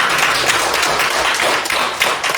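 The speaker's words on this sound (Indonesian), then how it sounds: "Tepuk tangan" Classroom of students clapping during a coding and artificial intelligence lesson, a dense, even patter of many hands that holds at a steady level for the whole stretch.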